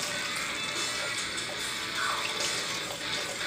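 Liquid being poured off from a homebrew ESB mash, a steady splashing trickle of wort running continuously at close range with a soft hiss.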